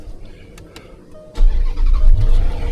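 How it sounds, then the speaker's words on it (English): Car engine starting during a routine maintenance check, a few quiet clicks before the starter catches, then a sudden loud rumble that settles into a steady idle close by. "let's turn on the car"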